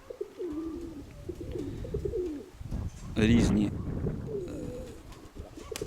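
Pigeons coo low and throatily near a dove keeper, the coos rising and falling under a man's speech, with a louder flutter-like burst midway.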